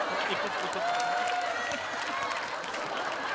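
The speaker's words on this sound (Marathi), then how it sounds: "जोरदार टाळ्या वाजवा" A studio audience at the Hasya Jatra comedy show applauds with steady, moderate clapping that fills the room, mixed with a few voices in the background.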